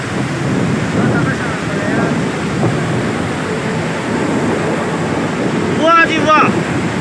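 A river rushes beside a makeshift wooden bridge on a mountain track, a loud steady roar of water mixed with wind buffeting the microphone, with a brief burst of voices near the end.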